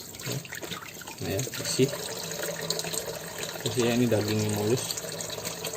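Tap water runs over a crab being washed in a home kitchen sink, a steady trickle and splash heard beneath a person talking.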